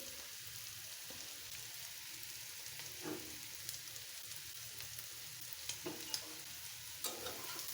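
Raw onions go into a shrimp and bitter melon stir-fry, with a soft, constant frying hiss punctuated by a few faint clicks and stirring knocks, fairly quiet and without talk.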